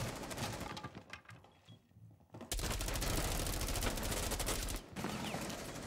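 Gunfire from a shotgun and other weapons in the video game Rainbow Six Siege. Scattered shots come first, then a loud, sustained stretch of rapid fire with one brief break.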